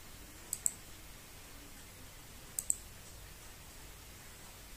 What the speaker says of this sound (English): and double click